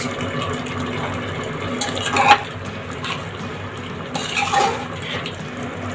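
Water poured into a cooking pot of raw jackfruit, a soft splashing fill with a couple of sharper metallic clinks of the pot and utensils, fairly quiet and close with no talk.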